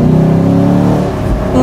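Deep, loud V8 rumble from a Chevrolet Camaro convertible on the move, a steady throaty drone close by that dips slightly partway through and then picks back up.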